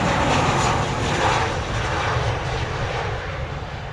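Jet airliner engines roar loud and near at the runway of Montego Bay's Sangster airport in Jamaica, a steady broadband rumble that eases slightly over four seconds with no voices.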